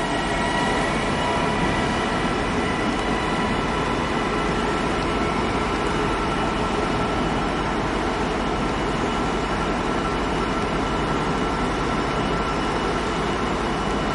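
A passenger train to Manchester Airport rumbles steadily past at close range at Manchester Oxford Road station, a continuous loud roar of wheels and engine with no pauses, no voices over it.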